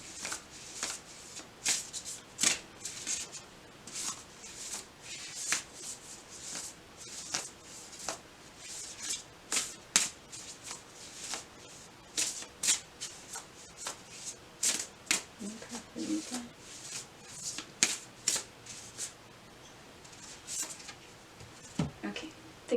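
Oracle cards shuffled by hand in a steady run of crisp riffling flicks and soft slaps, close and quiet, continuing for about twenty seconds with no talk.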